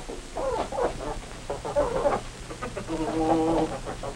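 Several hens cluck in overlapping bursts with a rooster's call rising among them, fairly close and steady throughout.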